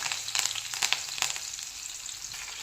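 Mustard seeds, cinnamon, clove, green chillies and curry leaves fry in hot oil, giving a close, steady sizzle with brief crackling bursts throughout.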